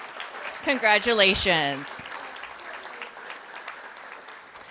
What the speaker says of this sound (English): Round of applause to Denise.